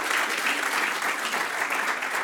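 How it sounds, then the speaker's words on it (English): A conference audience claps steadily for a panel of speakers, a dense even wash of applause from many hands, moderately loud throughout. "can we have a round of applause for our panellists"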